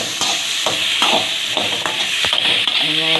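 Onions deep-frying in oil in a pan, a loud steady sizzle with repeated scraping stir strokes running throughout.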